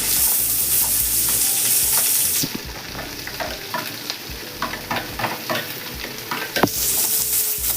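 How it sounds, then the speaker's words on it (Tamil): Chopped onions and green chilies fry in a pan for a country chicken fry. A loud, steady sizzle carries through, with scraping stirs and occasional clinks of the spoon against the pan, and there is no talk. "இந்த வெங்காயம் பொன்னிறமா வர வரைக்கும் 2 நிமிஷம் ரோஸ்ட் பண்ணுங்க"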